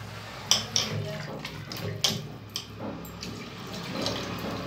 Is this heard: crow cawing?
no